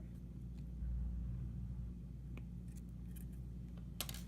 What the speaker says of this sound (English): since I have all this excess wire, really didn't need 12 inches of wire, but I'm going to cut it.